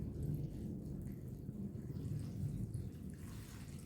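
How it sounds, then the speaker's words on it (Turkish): Cold water pours steadily into a jar of pickles prepared with rock salt and vinegar, a continuous splashing, rushing flow that stays close and fairly even throughout, with no talk over it. "Soğuk suyu da dolduruyorum."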